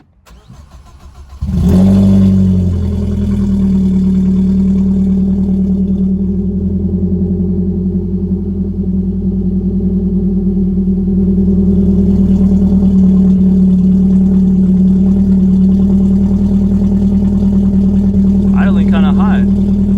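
A cat-less Ford Focus engine starts and then idles and revs steadily with a loud, deep exhaust drone, and a voice speaks briefly over it.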